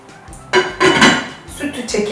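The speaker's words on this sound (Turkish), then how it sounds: "Ve kapağını kapatalım." A metal lid set onto a cooking pot of milky pasta, a couple of close clanking clinks and a ringing rattle as it settles.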